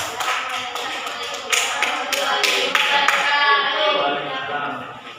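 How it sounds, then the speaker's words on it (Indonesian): Classmates in a school lesson clap for a student group, a burst of bright, uneven hand claps with several sharper accents that soon settle into a softer, fading patter. "Tepuk tangan untuk kelompok 3."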